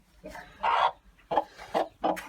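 A broody Sussex crossbreed hen gives a series of short, close clucks, irregularly spaced, some clipped and some drawn out, with no other sound over them.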